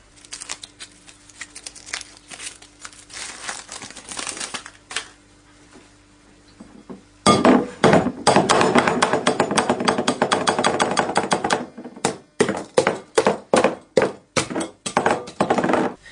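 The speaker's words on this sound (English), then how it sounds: "Into this bowl, we will break our chocolate orange eggs, like so." Crisp snapping and cracking as chocolate orange eggs are broken into a bowl, a dense flurry of sharp breaks followed by a series of separate, rhythmic clacks.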